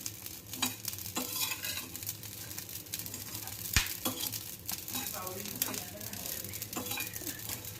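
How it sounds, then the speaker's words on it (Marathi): Vavding (embelia) seeds roast in a dry pan, a steady close sizzle with scattered small pops and clicks plus occasional scraping stirs and a sharp pan knock, moderately quiet. "हे वावडिंग आता भाजून घेते आता मस्त आहे फुल फुटतंय आवाज येतोय छान"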